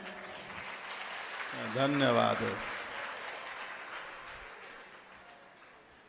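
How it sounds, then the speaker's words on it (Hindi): An audience claps at a Hindu religious discourse on the Shiv Mahapuran, a broad wash of applause running throughout while someone briefly talks over it. "ताली और इससे कम बजा के देखना।"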